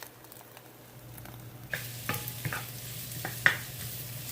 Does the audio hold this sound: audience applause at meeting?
no